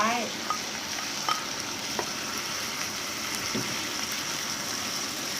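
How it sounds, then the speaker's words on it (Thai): Bamboo shoots are stir-fried with curry paste in a pan, giving a continuous close sizzle and crackle with a few scattered clinks and scrapes from stirring. The frying is steady and moderately loud, with no voices. "คนให้เข้ากับเครื่องแกง ผัดไปเรื่อยๆ ค่ะ"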